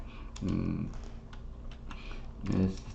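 Computer keyboard keys pressed while entering a spreadsheet formula, a steady patter of clicks running under a man's speech.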